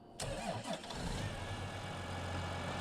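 A big tractor's engine in a farming video game cranks briefly, catches and settles into a steady, loud idle rumble, with no talk.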